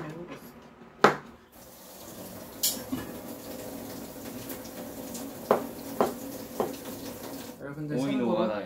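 A kitchen tap runs while hands are washed during bibim noodle prep, a steady soft water stream with a few clinks and knocks, and people talking over it.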